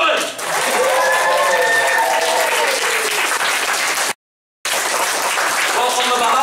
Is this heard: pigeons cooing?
no